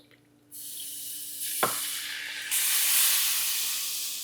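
A roux of flour and fat in a pan, during a ground beef recipe, cooks down with a steady loud hiss and sizzle that swells in stages, with a single brief clack partway through.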